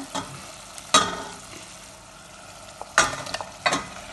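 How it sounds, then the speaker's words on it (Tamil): Vegetables for patties frying in a pan, mostly quiet with a low sizzle broken by a few sharp scraping stirs of a spoon against the pan, three distinct bursts at close range. "இனி வடிவ நான் பிரட்டி போட்டு நான் இப்போ இந்த வெட்டி வைத்த கிழங்கு போட போகிறேன்"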